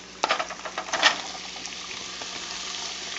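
Small bites of flank steak hit a hot pan and sizzle, with a burst of crackling and spitting at first that settles into a steady frying hiss.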